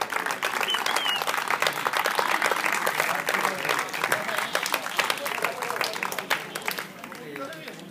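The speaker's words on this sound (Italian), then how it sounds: "facciamogli un grande applauso" A crowd claps at a football school award ceremony, dense and lively applause that carries on for several seconds before thinning toward the end, with a voice briefly audible beneath it.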